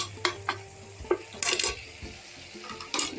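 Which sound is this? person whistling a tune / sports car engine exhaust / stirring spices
stirring spices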